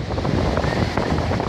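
Sea waves breaking and washing in on a summer beach, a steady broadband roar with wind buffeting the microphone throughout, close and fairly loud with no clear talk.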